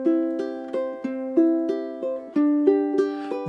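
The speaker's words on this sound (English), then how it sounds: "You could also do inside outside." Ukulele fingerpicked in an inside-outside pattern, single plucked notes falling in an even, steady rhythm with clear ringing tones, close and alone.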